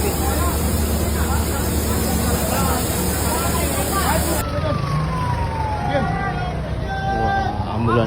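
Emergency sirens wail among crowd chatter at a train crash scene after a commuter train collided with an express, with ambulances queued nearby; the siren tones rise and fall under steady babble and a voice talking close by.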